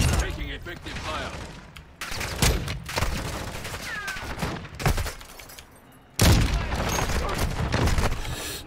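Gunfire in the video game Call of Duty DMZ, repeated bursts of shots in dense clusters separated by brief lulls, loud and close, with a faint voice in the background.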